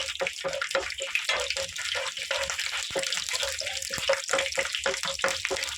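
Cumin, mustard seeds and urad dal tempering in hot oil in a pan, a steady dense sizzle with rapid crackling pops running throughout.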